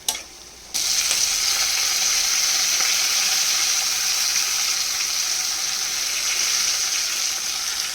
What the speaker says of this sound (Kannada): ನಾನು ಗೋಡಂಬಿ ಬೀಜ ಹಾಕ್ತಾಯಿದ್ದೀನಿ, ಚೆನ್ನಾಗಿರುತ್ತೆ, ಫ್ರೈ ಆಗುತ್ತೆ ನೋಡಿ ಹಾಕಿದ್ರೆ